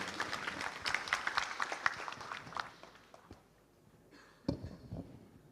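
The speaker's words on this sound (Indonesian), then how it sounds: "Tepuk tangan yang meriah untuk beliau" Applause from an audience welcoming a speaker to the podium at a Muhammadiyah law and human rights gathering, a burst of clapping that fades out, followed by a single louder knock or thud near the end.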